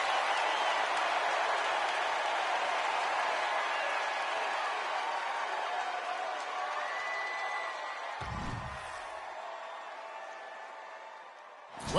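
Eager home crowd at an NBA game in the NBA 2K video game, a steady broad roar of cheering and applause that holds loud throughout before easing slightly near the end, with a brief low thump partway through.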